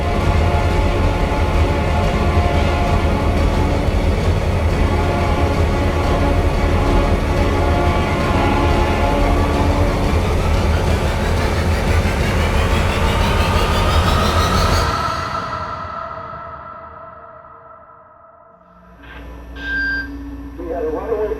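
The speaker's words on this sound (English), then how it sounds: "The BNSF train collided with the Sioux locomotives before ricocheting into the" Runaway BNSF freight train colliding with Soo Line locomotives in a St. Paul rail yard: a loud, sustained roar of rolling rail cars and grinding metal for about fifteen seconds, then fading to quieter rumbling and clanks.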